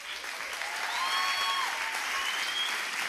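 A studio audience gives an enthusiastic welcome to an accordionist at an acoustic music session, with a steady, full wash of clapping and faint cheering whistles throughout.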